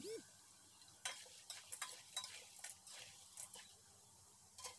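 Crispy spiced mushrooms are stirred and fried a second time in hot oil, with soft steady sizzling broken by scattered scraping and clinking taps from a utensil, heard close up.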